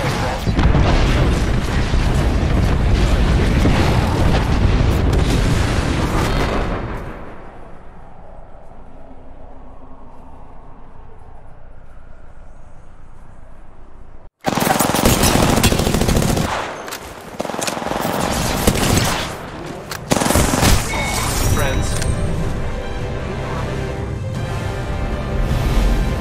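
Heavy gunfire and booming airstrike explosions in Apex Legends, a loud dense barrage at first, then a muffled lull, then a sudden roar of blasts and rapid shots continuing loudly to the end.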